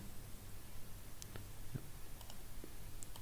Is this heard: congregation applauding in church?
no